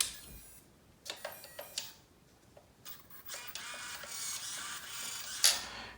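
A ProTek 170TBL servo in a Traxxas T-Maxx 3.3 nitro truck powers up and centers itself, giving faint, brief mechanical whirs and clicks scattered over a quiet background.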